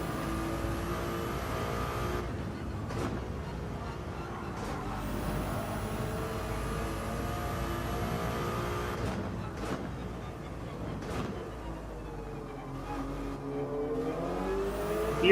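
A Subaru BRZ race car in Gran Turismo 7 laps the Nürburgring 24-hour race, its engine revving up and dropping back through repeated gear shifts with rising and falling pitch, and no voices.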